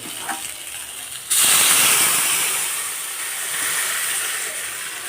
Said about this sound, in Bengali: তো ঝোলটা ফুটতে থাকুক